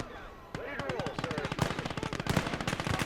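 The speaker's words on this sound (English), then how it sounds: "If you can get all three of your guns on, all three of your front-facing machine guns on, you'll do great here." Front-facing machine guns on a light armored vehicle fire in the WWII game Gates of Hell: Ostfront as a loud, close, rapid continuous burst that starts abruptly and keeps rattling to the end.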